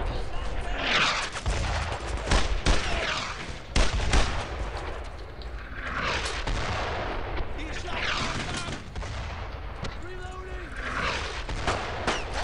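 Mortar blasts and rifle and machine-gun fire from the WWII shooter Brothers In Arms: Road To Hill 30, a steady loud barrage of bursts and booms across the whole stretch, with a player talking over it.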